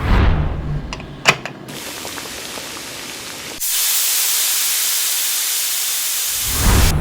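Steam from a pressure cooker cooking jackfruit and beef biryani, before its weight goes on, first a softer hiss with a few clicks, then a loud steady high hiss that cuts off sharply near the end.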